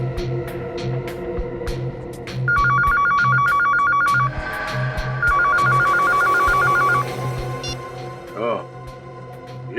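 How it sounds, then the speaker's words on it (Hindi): A telephone in a bank office rings in two long, evenly pulsing bursts during a tense crime investigation, with voices and a low background hum. "ये फोन है।"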